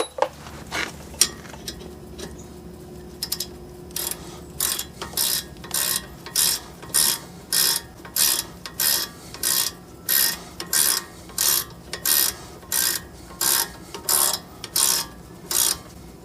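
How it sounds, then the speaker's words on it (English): A ratchet wrench loosens the brake caliper bolts on a 2010 Hyundai, producing a steady run of rhythmic clicking bursts, about one per second, close and fairly loud with no speech. "So now I got my ratchet wrench and take these two bolts out."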